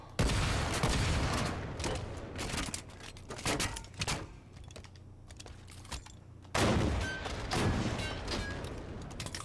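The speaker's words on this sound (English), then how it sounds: "So you can definitely tell that the SPNKr rocket launcher has a much faster rate of fire than the standard rocket launcher for Halo 5" Halo 5 standard rocket launcher and SPNKr rocket launcher fired in rapid succession in the video game, a dense series of loud sharp blasts and explosions in two bursts separated by a quieter stretch, with no talk.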